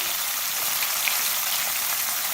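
Tomato going into a frying pan for aloo methi sabzi, giving a steady, close hiss and sizzle of hot oil that runs evenly throughout with no talking.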